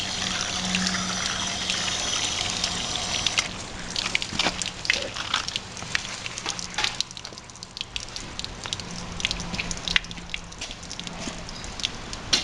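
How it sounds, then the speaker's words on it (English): Water drains and trickles out of soaked river birch seed, a continuous wet dribbling and splashing with irregular drips, close and fairly steady throughout. "So we're going to get all that really wet and then let it drain out."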